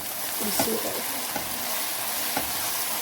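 Ketchup is stirred into chow mein in a hot pan, a continuous close sizzle with a few soft scraping stir strokes spaced through it, and no clear talking.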